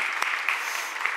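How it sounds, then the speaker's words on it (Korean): A church congregation claps together in a brief burst of steady applause, a dense patter of many hands heard without talk. "응원 한번 박수 한번 할까요?"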